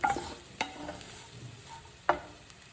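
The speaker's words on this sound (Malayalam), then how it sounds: "ഞാൻ ഈ തേങ്ങ ഇടയ്ക്കിടയ്ക്ക് ഇളക്കി കൊടുക്കുന്നുണ്ട്" Grated coconut fries in a little oil in a pan for a Kerala breadfruit curry, a faint low sizzle broken by three quick spatula scrapes as it is stirred.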